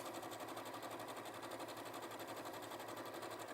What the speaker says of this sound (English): we get our longest stitch length and we do 2 line of stitches within the seam allowance